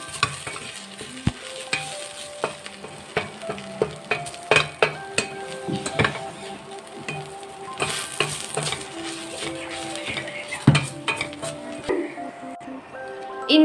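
Chicken curry is stirred in a pot, a spoon scraping and clinking against the metal in irregular strokes over a steady sizzle, close and fairly loud, with brief talk in between.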